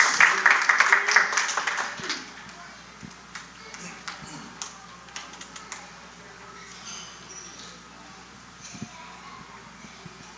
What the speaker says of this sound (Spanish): quiero que lo recibamos con un fuerte aplauso al pastor Ricardo